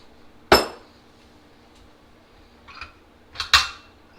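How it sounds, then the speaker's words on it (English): Ground espresso coffee being shaken before brewing on a Flair 58 manual espresso maker: a sharp, close rattle, then two more short clattering bursts a few seconds later, with quiet in between. "So I'm just going to shake my grinds up."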